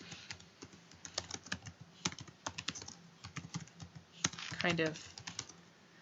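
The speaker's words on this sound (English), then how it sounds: "I'm going to type in the directions" Typing on a computer keyboard, a quick irregular run of light plastic key clicks close by, with brief spoken words mixed in.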